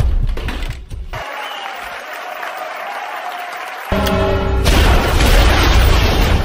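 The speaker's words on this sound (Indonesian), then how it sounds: "bom waktu yang Gio siapkan pun akhirnya meledak" A time bomb goes off in a film scene: a sharp booming blast near the start, a hushed stretch, then a crackling burst and loud rumbling debris noise that fills the end.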